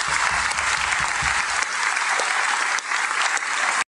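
A large audience gives warm, sustained applause for a state deputy candidate at a political event, with dense, steady clapping close by that holds for about four seconds before stopping abruptly.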